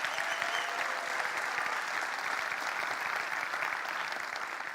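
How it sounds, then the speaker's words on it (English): A conference audience gives a sustained round of applause, a dense, even wash of many hands clapping at a steady level from start to finish, with no voices over it. "so why don't we give him a round of applause?"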